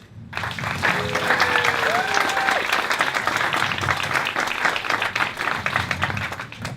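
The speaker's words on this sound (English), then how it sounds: "massive round of applause to the bride" Wedding guests applaud the bride at a golf club reception, a dense, steady wash of clapping that fills the room for several seconds, with a few faint voices and whoops mixed in.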